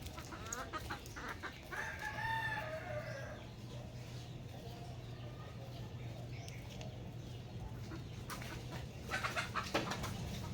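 A chicken clucks and squawks close by amid rustling and handling noise, with a low steady hum underneath and people talking around it.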